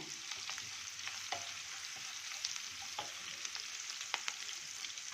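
Curry leaves and ginger paste frying in hot oil for a peanut-potato fasting khichdi, a soft continuous sizzle with occasional light crackles and stirring taps, fairly quiet and with no talking.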